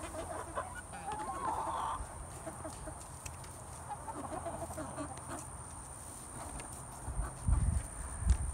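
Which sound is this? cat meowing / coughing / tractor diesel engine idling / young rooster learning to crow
young rooster learning to crow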